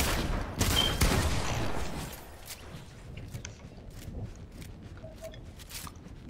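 Gunfire in Fortnite Battle Royale, with a dense burst of shots early on that thins into scattered, quieter distant pops and clicks, and no talk.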